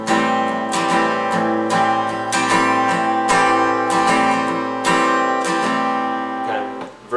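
An acoustic guitar strums a song's rhythm at full speed, with steady chord strokes and regular accented downbeats, close and clear with no talking.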